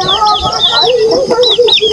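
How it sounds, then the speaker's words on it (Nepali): Chickens in a village yard in Angdim, Tehrathum, Nepal cluck loudly and close by, with rapid overlapping clucks and rising squawks and no pause. "कुखुरा लडेर जान्छ नि फेरि।"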